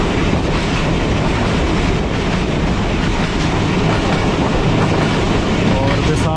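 Thal Express passenger train running on the ML2 line toward the Seven Sisters tunnel series, a loud, steady dense rumble of wheels and carriages throughout, with faint clickety-clack and no talking.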